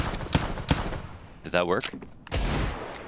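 AK rifle shots fired through a wall in Counter-Strike ring out as a few sharp, separate cracks, then a later burst, with someone talking over them between shots.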